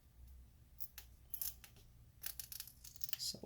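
Adhesive strip being peeled off the screen of an HP 14-dq1043cl laptop during disassembly, giving quiet crackling, sticky tearing bursts up close, intermittent and faint.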